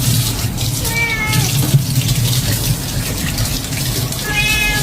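Shower water runs over a cat's belly during a bath, a steady hiss of spray with two short plaintive meows from the cat.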